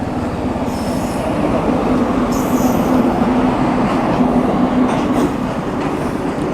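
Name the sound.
goods train passing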